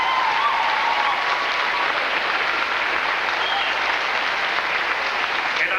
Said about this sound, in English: So give them a great big round of applause.